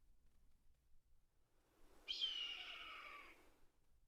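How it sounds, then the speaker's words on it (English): Red-tailed hawk giving a single hoarse, descending scream that lasts over a second, faint and distant against a quiet outdoor background. "Sounds like there's a red-tailed hawk calling nearby."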